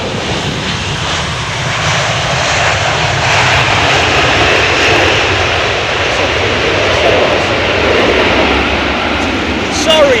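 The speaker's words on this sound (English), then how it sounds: "He's gone ballistic on the reversers, the old boy" Jet airliner landing in the wet at London Heathrow, a loud, close, sustained roar of engines on thrust reverse that swells and holds, with a voice talking over it.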